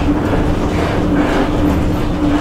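Heard from inside the cab of an EP1 electric locomotive, an oncoming electric commuter train passes with a loud, steady rumble and rail clatter under a constant cab drone, with no talk.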